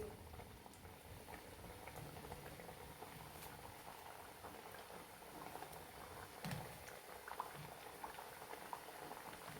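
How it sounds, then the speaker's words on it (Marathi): Wheat flour kapanya pieces frying in hot oil, a faint continuous bubbling crackle with light patter throughout and a few slightly sharper pops, no voices. "आपण उरलेलं सर्व कापण्यात त्या तेलामध्ये टाकून घेऊया आणि तळून घेऊया"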